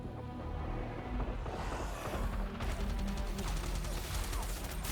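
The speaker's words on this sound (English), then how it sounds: "Oh my god, hearing the gunfire?" Gunfire in the video game Wuthering Waves breaks out during a battle scene, starting as a rumbling wash and turning into rapid, repeated bursts of shots over a loud, dense background.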